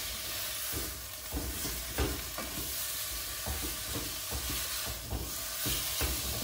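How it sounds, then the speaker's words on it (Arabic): Meat being stirred with a spatula as it fries in a pot, with a whole onion in with it: a steady, close sizzle broken by repeated scraping strokes, with no talking. "وهبدا اقلب اللحمه"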